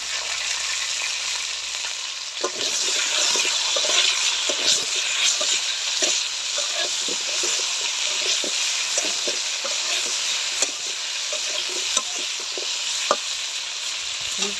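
Fish and spinach sizzle and fry in a pan while being stirred, with a constant hiss broken by frequent small scraping and clacking taps from the utensil, close and steady throughout.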